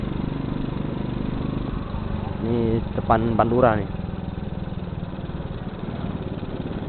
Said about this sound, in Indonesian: Maaf juga kalau suara motor gua nggak enak ya, soalnya nggak ada filter karbunya.